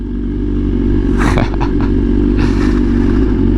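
A BMW S1000RR fitted with a loud custom exhaust idles with a heavy, throbbing low rumble, close and loud, with a couple of brief sharp blips and rattles over the steady engine note.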